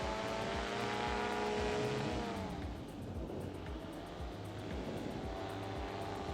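A Rotax 582 two-stroke engine on a Fly Products tandem paramotor trike runs steadily and loudly, a droning buzz with a shifting pitch that sweeps down midway. No one speaks.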